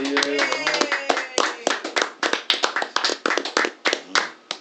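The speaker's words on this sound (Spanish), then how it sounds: "Un aplauso" A small group of people at a party claps in distinct, separate handclaps, loosely rhythmic and close, with a voice heard briefly at the start.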